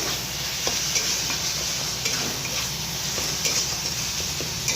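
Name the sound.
flat beans (shim) frying and being stirred in a pan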